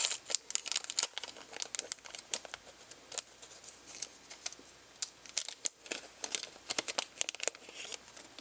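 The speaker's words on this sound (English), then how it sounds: "Now we're going to unwrap the Raspberry Pi thingy." A Raspberry Pi being unwrapped from its packaging up close, with rapid crinkling and rustling of plastic wrap in uneven bursts, no talking.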